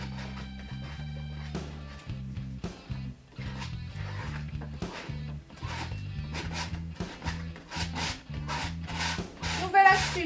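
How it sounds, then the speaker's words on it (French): Steel palette knife repeatedly scraping and smoothing paint along canvas edges, a close, continuous rubbing rasp in short strokes with a steady low hum beneath. "Je vais venir juste égaliser mes petites bordures pour avoir un plus joli rendu."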